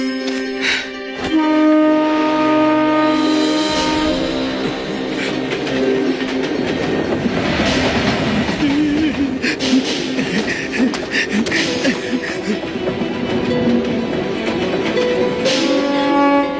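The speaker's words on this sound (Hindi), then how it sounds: "ट्रेन चल पड़ी।" A train starts pulling away, giving a steady loud rumble and wheel clatter that continues throughout, with music playing over it.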